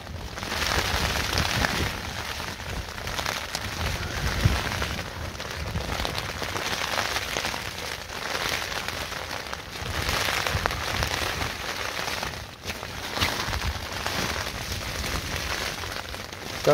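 Dense, steady rain drums on a tent during a wild camp on Dartmoor, a continuous close hiss with occasional heavier patters, no voices.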